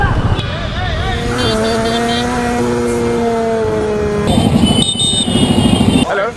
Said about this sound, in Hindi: crazy traffic in India.